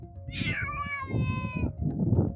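A cat meows twice in quick succession, a rising then drawn-out whine, over a steady low background rumble with no voices.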